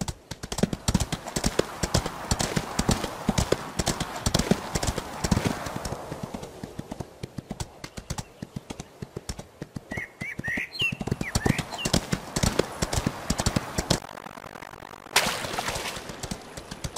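Horse hooves clip-clopping at a gallop in a video game, with a rapid steady rhythm of hoof beats, a brief whinny and faint bird chirps in the background.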